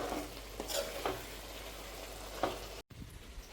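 Egg masala sizzles and fries in a pan, with a steady crackling hiss and a few soft scraping stirs, close and fairly quiet, no talking.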